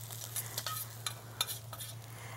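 Food being stirred in a pan with olive oil while cooking spaghetti San Marco with melanzana, quiet scraping strokes in an irregular rhythm over a soft sizzle and a steady low hum.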